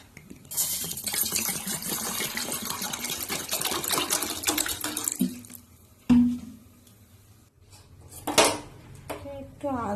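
A pot and utensils clatter and scrape while tea is put on to brew in a home kitchen, with a whirring, rattling stretch followed by sharp metallic clinks and a brief splash of water, all close and fairly quiet.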